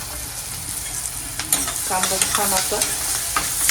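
Chopped onion dropped into hot butter with bloomed cumin seeds sizzles and crackles loudly close by, with stirring scrapes over a steady frying hiss, and a voice speaks briefly.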